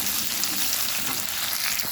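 Chillies and onion sizzle and crackle steadily as they're stirred in hot oil for a tempering in a pan for soybean sukka, a continuous dense frying hiss with faint scraping and no voices.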